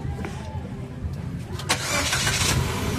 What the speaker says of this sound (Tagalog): Paki-start ng makina.